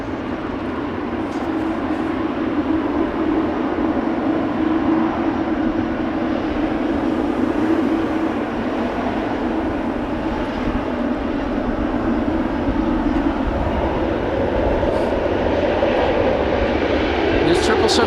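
An aircraft departing Amsterdam Schiphol Airport gives a loud, continuous engine roar that holds steady for the whole stretch, with a voice speaking over it.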